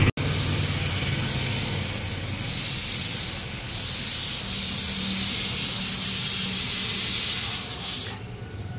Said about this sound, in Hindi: काफ़ी बड़ा ये कुकर है,